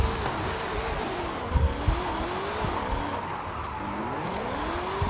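A car drifting in the Forza Horizon 5 racing game, with a wavering, warbling tire squeal that rises and falls over a steady engine drone and road rumble, fairly loud and continuous, no talking.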